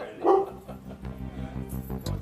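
Large dog on the premises of a pub, barking in a short, distant burst followed by softer yips and whimpers amid faint background noise.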